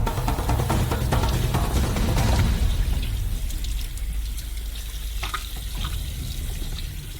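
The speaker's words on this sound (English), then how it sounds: "We transfer the head to the sink and thoroughly wash it from the mucus" Running water pours into a kitchen sink while a sturgeon head is rinsed clean of mucus, a steady loud rush with faint splashing and handling toward the end.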